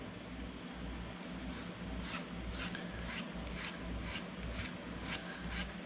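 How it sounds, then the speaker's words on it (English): A file rasps down a carving wax block held at an angle, about nine regular strokes in a steady rhythm, close but quiet over a low background hum. "So I'm holding this at an angle. And I'm just filing down to that reference mark."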